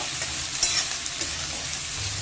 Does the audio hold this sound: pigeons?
no